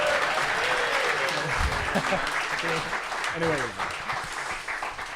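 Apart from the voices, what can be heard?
studio audience applause for a host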